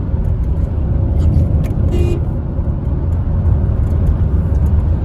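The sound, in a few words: Honda Crossroad car engine accelerating on the road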